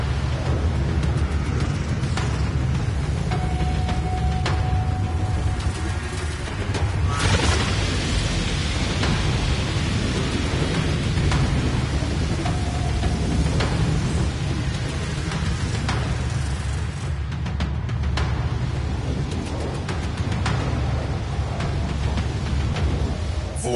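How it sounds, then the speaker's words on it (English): Rain and rumbling thunder from a void storm in the Warframe video game, a steady loud downpour with low rolling rumbles and a few brief tonal game effects, no talk. "Void storm rolling in. Batten down the hatches."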